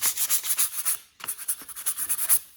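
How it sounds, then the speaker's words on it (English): Sandpaper rubbed back and forth over a wooden edge to break its sharpness, a rapid rhythmic hissing scrape of short strokes, close and loud, with a brief pause midway before the strokes resume. "going over the edge to remove any of the sharpness"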